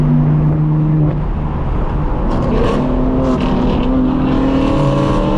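Loud, steady engine roar of a straight-piped BMW M4 F82 revving and rumbling close by, with a deep exhaust drone holding throughout and no talking.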